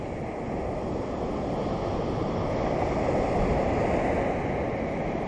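Rushing water from the hills roars steadily and loudly as it pours into the sea at a Phuket beach, with a constant broadband wash and no voices.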